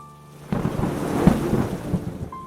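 Steady rain with a low rumble of thunder building after a quiet start, a broad wash of falling water and rolling booms filling the space, no voices present.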